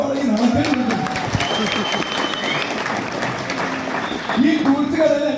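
Audience applause at a marketing talk, with clapping from a crowd rising and falling under a speaker's amplified voice, swelling again toward the end.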